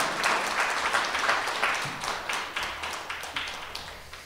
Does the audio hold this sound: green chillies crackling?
no